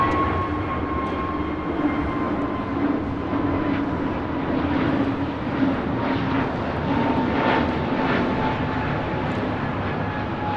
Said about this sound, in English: 621 taking off to San Salvador on an A320neo.